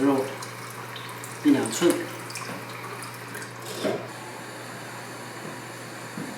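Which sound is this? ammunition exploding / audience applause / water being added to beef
water being added to beef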